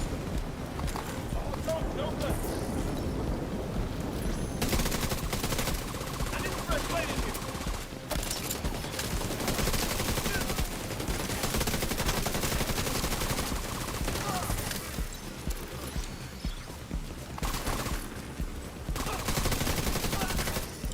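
Automated turret in The Division 2 firing in rapid rattling bursts, loud and close, broken by short pauses over about twenty seconds, with rain and a voice talking along with it.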